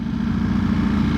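A Ducati Streetfighter V4S V4 motorcycle engine gives a loud, steady, low throbbing drone, heard up close and alone for just over a second.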